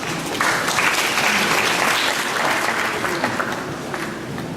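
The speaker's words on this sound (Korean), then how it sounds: "박수로 환영해 주십시오." Audience applause at an Intel Ultrabook launch event welcoming a presenter, a dense, steady wash of clapping from a hall crowd that holds for several seconds and tapers slightly.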